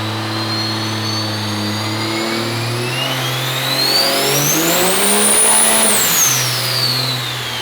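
A triple turbo Ford truck engine revs on a dyno, a loud sustained drone climbing steadily in pitch with a rising turbo whine, peaking near the end before dropping back to a steady hum.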